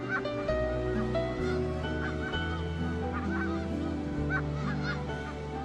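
A flock of geese honks repeatedly in loud, overlapping nasal calls, close and continuous over a droning low background.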